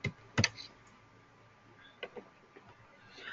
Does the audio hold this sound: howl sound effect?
no